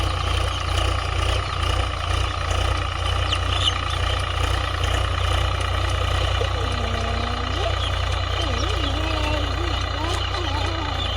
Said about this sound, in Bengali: পাওয়ার টিলারে চাষ করছে।